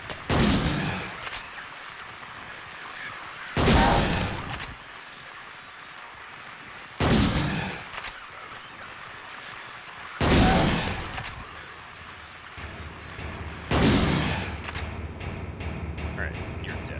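Gunfire in the video game Silent Hill: several loud, broadband bursts arrive roughly every three to four seconds over a quieter game ambience, each sharp and booming.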